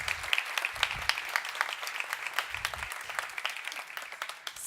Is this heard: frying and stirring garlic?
no